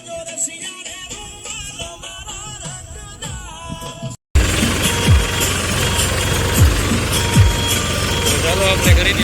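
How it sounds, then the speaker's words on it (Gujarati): A tractor engine catches after a short silence and settles into a loud, continuous diesel rumble with rhythmic knocking; a voice and tonal background sounds precede the start. "હવે કરી દઈએ ટ્રેક્ટર ચાલુ."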